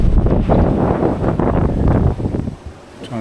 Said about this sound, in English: It's a nice breeze, but we need full power to keep moving.